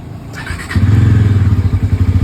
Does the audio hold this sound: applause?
no